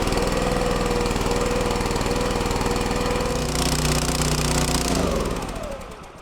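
A small engine on firewood-cutting gear runs loud and steady, then stumbles and dies out over the last second as the carburetor runs out of fuel; no talking.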